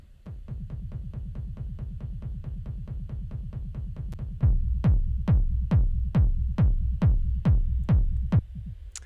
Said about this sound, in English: the main kick drum, which is from an electron analog rhythm